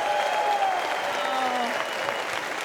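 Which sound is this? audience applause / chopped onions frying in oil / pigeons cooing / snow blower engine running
audience applause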